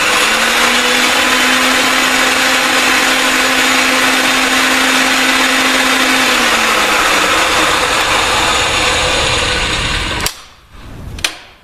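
Ridgid pipe threading machine motor running steadily loud and close while a pipe is deburred under handle pressure, a continuous whirring grind that cuts off near the end, followed by a couple of short knocks.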